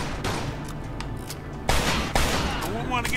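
Repeated gunshots in the crime game Mafia II come as sharp, loud cracks, some of them close together in bursts. Game noise runs underneath, and speech can be heard faintly.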